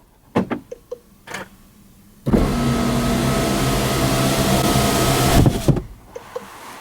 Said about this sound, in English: now I can put up and down the windows by the remote